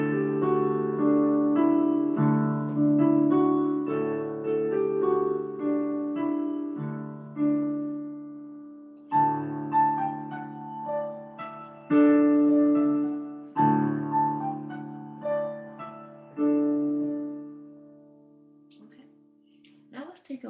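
Handbells ring through a melodic passage of eight measures, clear sustained tones sounding one after another with overlapping ringing decays, close and moderately quiet, fading out at the close.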